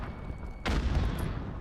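A single loud gunshot in Modern Warfare 2 cracks out after a quieter stretch, followed by a sustained boomy rumble of game ambience and fire.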